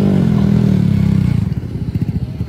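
A motorcycle on a stunt lot runs with a loud, close engine rumble, then the rider drops a foot down and brakes. The steady drone breaks into a rough, pulsing chug as it slows.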